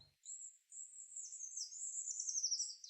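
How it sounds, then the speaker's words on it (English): Eurasian treecreeper gives a thin, very high call and then a delicate song that runs on and falls in pitch. It sounds close and clear against a silent background. "Tree creeper has a very high pitched delicate descending call and song that's easy to miss"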